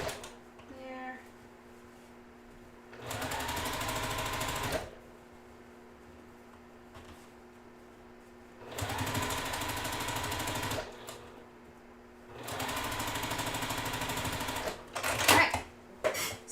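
Sewing machine stitching rows of a quilt block together, three steady whirring bursts of a few seconds each separated by quiet pauses, close and fairly loud, with occasional fabric handling between runs.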